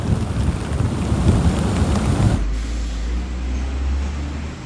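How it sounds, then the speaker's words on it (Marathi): Strong wind roars across an open bridge above a rough sea on the Konkan coast near Bhate, a loud broadband rush that suddenly turns to a deep low rumble of buffeting gusts partway through. "तुम्ही आता बघू शकता माझ्या मागे भरपूर वारा वाहतोय आणि मी आता सध्या आहे भाटे ब्रिजवर."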